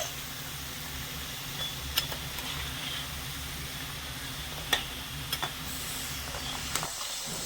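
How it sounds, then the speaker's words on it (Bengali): Semolina sweets fry in hot oil with a steady, soft sizzle and hiss, broken by a few faint clinks and stirring sounds, with no one talking. "আর একটুখানি আমি লাল করে মিষ্টিগুলো ভেজে নেবো"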